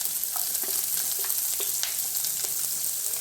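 Onions sizzle in hot oil with mustard seeds, green gram and urad dal, a steady frying hiss with small crackles and pops, close and unbroken by speech.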